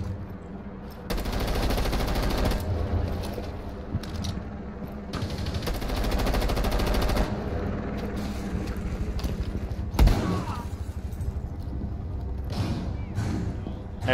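Sustained automatic gunfire in the tactical shooter Rainbow Six Siege, with long loud bursts, short pauses and a sharp impact near the end, and faint player chatter mixed in.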